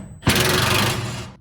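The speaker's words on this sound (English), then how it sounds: "Ruben's going to try and loosen it from the underneath side with an impact" An impact wrench works a rusty bolt loose on a Ford F1 truck, one loud continuous buzzing burst of about a second that starts abruptly and stops at the end.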